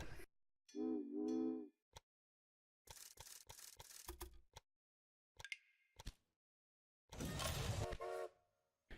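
Trains run in the video game Railway Empire, with a short tonal whistle and scattered bursts of rail and engine noise separated by silences. Everything is fairly faint and choppy.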